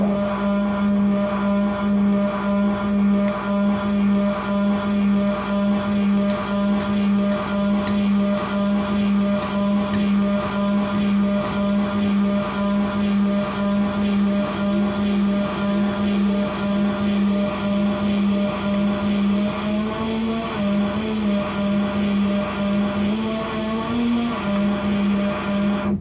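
A Korg Monotron Delay analog synthesizer plays a loud, steady, buzzy drone with layered sustained harmonic tones. A few wobbling pitch sweeps come near the end, and no voices are heard.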